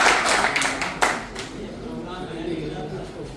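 Clapping at an annual general body meeting of Gharana Mandi, a burst of hands that starts strong and quickly thins out and fades, leaving a quieter room with voices murmuring underneath.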